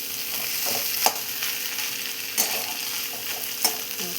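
Boiled potatoes being mixed with garlic in a hot pan, a constant soft sizzle broken by three sharp scraping stirs of a spatula, close and without speech.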